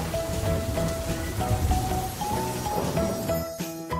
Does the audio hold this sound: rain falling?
yes